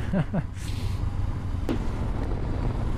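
A 2019 Honda CB500X motorcycle cruises at a relaxed pace, with engine drone and wind buffeting the helmet microphone while the rider talks.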